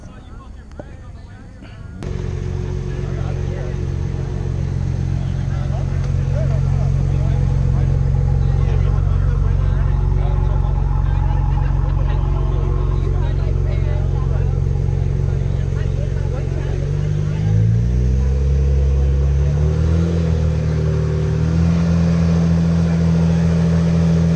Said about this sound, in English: Good God, Nadim's car is so fucking mean